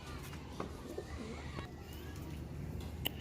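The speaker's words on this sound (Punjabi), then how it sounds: "ਜਨਾਬ ਜੌਂਸੀ ਦਾ ਕਬੂਤਰ ਹੈ" Soft, low pigeon cooing repeats in a steady murmur close by, with faint chirps and small rustles over a quiet background.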